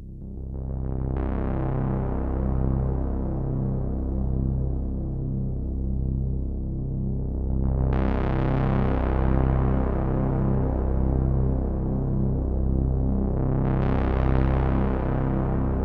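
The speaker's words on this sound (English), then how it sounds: "just control the sound of the drone" A deep, dark electronic drone from a Nord Drum 3P hums steadily, with a brighter swell returning every few seconds like slow single strikes.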